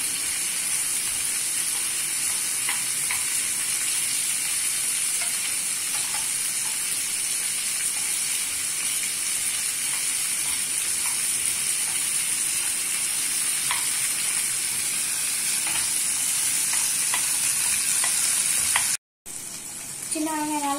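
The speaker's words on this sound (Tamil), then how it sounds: "நாம இப்ப சின்ன வெங்காயத்தை வதக்கி அரைக்கணும்." Small onions and curry leaves sauté in a hot pan with a steady, loud sizzle and frying hiss, broken by occasional soft stirring scrapes and a brief cut near the end.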